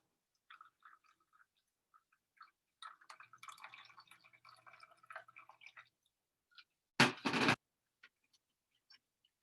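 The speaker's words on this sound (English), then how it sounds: "Pour it in a little bit, let it drain." Cold water poured through coffee grounds in a filter bag for Vietnamese coffee, draining with scattered soft drips and trickles, then one short, loud gush of pouring near the end, with no talking.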